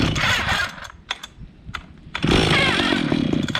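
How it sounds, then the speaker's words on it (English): Antique Stihl 031 chainsaw cold starting with choke on and throttle set: a loud two-stroke engine rasp runs at the start, falls to a few sharp recoil pulls and clatters, then roars back steadily close by. "we'll see how it cold starts this morning"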